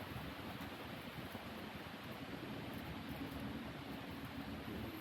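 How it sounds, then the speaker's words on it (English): Wind moves through the trees at Flat Rock Brook Nature Center as a steady, faint, broad rushing hiss that continues without a break and carries no voices. "taking in the sounds of the wind of the trees"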